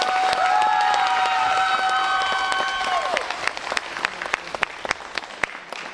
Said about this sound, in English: Can we give all the students another round of applause?